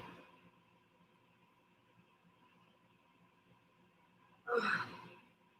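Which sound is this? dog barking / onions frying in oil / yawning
yawning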